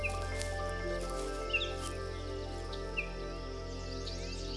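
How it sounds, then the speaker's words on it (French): Forest birdsong under a meditation music bed: a few light chirps and short tweets sound faintly and sparsely over a sustained tonal drone. "Vous entendez le chant des oiseaux."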